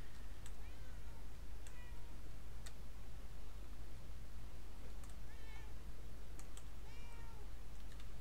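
A cat meows several times in the video game Murdered: Soul Suspect, short rising cries spread across the clip over a steady low hum and faint ticks.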